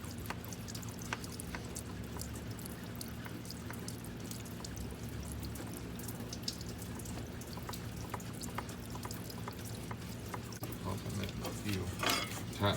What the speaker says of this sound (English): keep pumping it until you see the fuel starting to come out now. And there goes the air pocket.